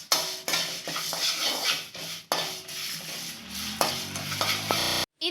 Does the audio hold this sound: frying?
yes